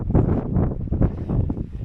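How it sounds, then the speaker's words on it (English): Strong wind buffeting the microphone in heavy, rumbling gusts, loud and close, with no voices. "it is so windy up here"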